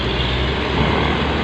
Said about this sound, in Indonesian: Kita lanjut, ini bongkarannya masih ada truk